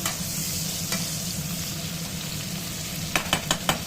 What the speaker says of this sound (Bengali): পেঁয়াজটা একটু বেশি ভাজা হয়ে যাচ্ছে